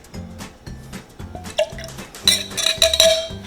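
Lemon juice trickles into a cocktail shaker already holding egg white for a rye cocktail, giving dripping, squishy splashes and a few bright glassy clinks over a steady, rhythmic low background.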